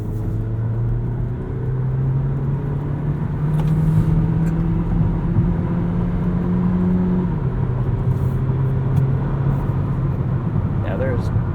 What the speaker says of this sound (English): Sport mode is hybrid only, so the gasoline engine is going to run all the time for that added performance.